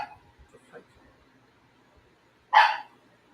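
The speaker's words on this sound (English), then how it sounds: "my dog is barking." A dog indoors gives a single sharp bark near the end, preceded by faint yips, with quiet background sound from a film playing.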